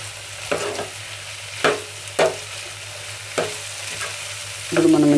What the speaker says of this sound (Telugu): చౌచౌ క్యారెట్ చూడండి ఫ్రై అయిపోయింది.